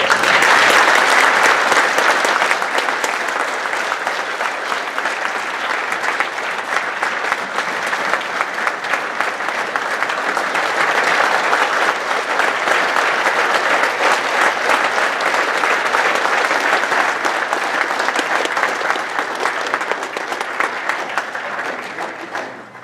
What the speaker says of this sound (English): So I think we should give our leadership team a round of applause.